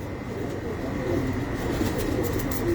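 Pigeons coo on a rooftop loft in a steady low murmur, with soft overlapping calls against faint background noise and no talking.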